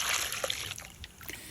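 Water poured over peeled, cut cassava pieces to wash them outdoors in a village kitchen, a brief close splashing and sloshing with trickling runoff.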